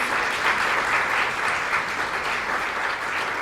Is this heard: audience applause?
yes